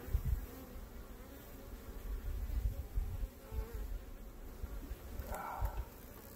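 Honey bees from a hive cutout hum in a steady, low, continuous drone, fairly close and moderately loud, with a brief sharper rattle near the end and no talking.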